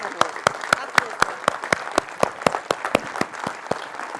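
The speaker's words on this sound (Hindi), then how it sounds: "आपका ताली रुकना नहीं चाहिए।" Audience applause fills a hall at an Atomy India felicitation event, a steady run of sharp, close hand claps that goes on for the whole stretch.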